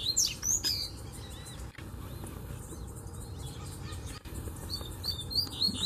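A coleiro mateiro seedeater sings from a distance in a bamboo grove, its short chirping phrases coming in scattered bursts over a low outdoor background hum.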